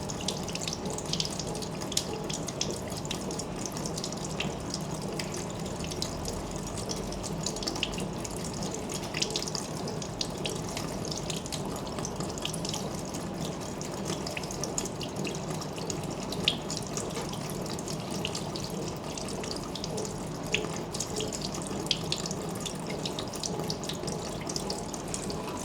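Tap water runs steadily and close over a greased main gear during a water resistance test, a continuous splashing hiss with small spattering bursts and no speech.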